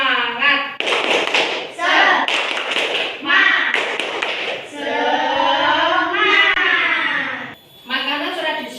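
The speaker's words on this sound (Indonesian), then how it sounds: "Tepuk semangat." A fourth-grade class does a rhythmic spirit-clap ice-breaker, sharp patterned hand claps in quick bursts alternating with children chanting together in unison.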